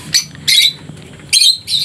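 A pet bird with splay legs chirps in four bright, clear bursts, close and fairly loud, with short quiet gaps between the calls.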